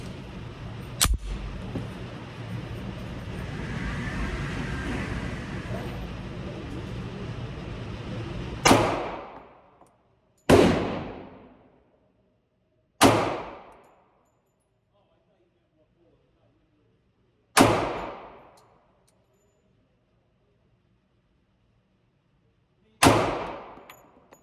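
Five sharp, loud pistol shots from a Sig Sauer 220R or HK USP Compact .45 crack out one at a time with uneven gaps at an outdoor range. Each report rings off and fades, and busier background noise comes before the shots.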